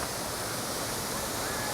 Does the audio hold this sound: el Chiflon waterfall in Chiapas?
yes